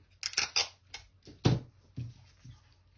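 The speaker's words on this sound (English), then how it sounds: "We're going to tape this around the seam." Tape pulled off a roll and pressed around a seam on a soft pastel art project: several sharp, close ripping and crackling bursts, loudest near the middle, with no talking.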